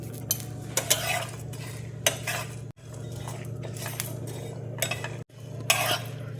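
Cashews, garlic and green chillies fry in a pan, a low steady sizzle under repeated metal clinks and scrapes of a spatula against the pan, with brief pauses between stirs.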